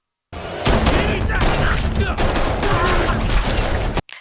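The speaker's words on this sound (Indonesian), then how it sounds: "lalu anak buah Tai Long menembak" A loud, dense burst of gunfire from a Hong Kong-style action film scene with henchmen shooting, continuous for several seconds, then cutting off abruptly.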